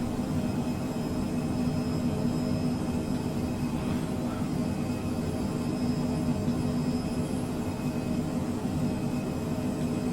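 A business jet flies a touch and go at Imperial Beach in Microsoft Flight Simulator 2020, its engines holding a steady, even drone with a faint whine on top and no pause or talking.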